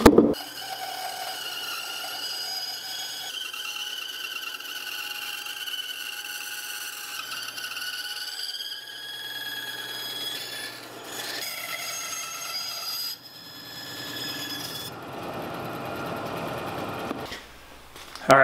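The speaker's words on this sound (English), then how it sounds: "So now I take it over to the bandsaw and cut it out." A bandsaw cuts a wooden blank for a hand-carved fish, giving a steady whining, rubbing drone with tonal harmonics that shifts in pitch as the cut progresses, running nearly the whole time before a brief pause at the end.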